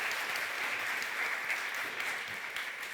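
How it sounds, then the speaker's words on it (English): Audience members at a UX industry panel discussion clap for the panelists, an even, continuous round of applause at moderate level with no voices. "So just a big round of applause to our panelists."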